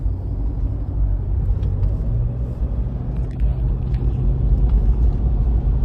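A rally car in a mini rally stage near Talsi runs along a straight stretch, giving a steady loud engine drone and road rumble from inside the car that holds for the whole stretch with no voices.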